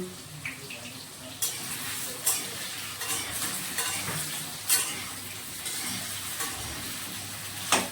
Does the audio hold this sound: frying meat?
yes